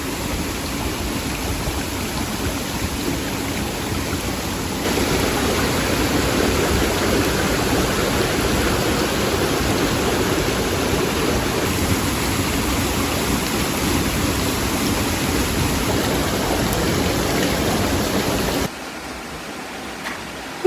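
Rain falls near a secluded waterfall in New Zealand, with a steady, dense rush of falling water and spattering drops that persists for about twenty seconds before briefly dropping quieter, without talk.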